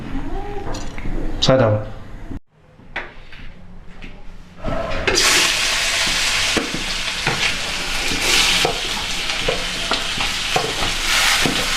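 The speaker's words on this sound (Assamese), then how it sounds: "প্ৰথমতে আলুখিনি ভাজি ল'ম" Diced potatoes fry in mustard oil in a home kitchen pan, with scraping and stirring clatter at first, a brief lull, then a loud, continuous close sizzle as they cook.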